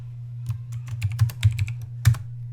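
Rapid, close clicks of keys on a computer keyboard as a password is typed into a login page, an irregular run of taps over a low steady hum, with no speech.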